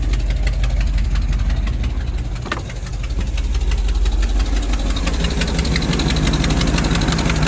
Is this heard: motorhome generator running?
yes